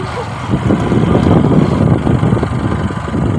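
Motorbike engine running steadily while being ridden with a passenger, a continuous loud low rumble with wind noise throughout.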